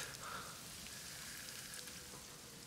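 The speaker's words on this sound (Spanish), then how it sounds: "Parece que la lluvia quema." Rain in the video game Death Stranding, a faint, steady hiss of falling drops pattering on surfaces, heard alone with no talk.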